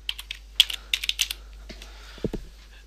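Typing on a computer keyboard, a quick series of close, crisp key clicks in short bursts, followed by a couple of heavier keystrokes near the end.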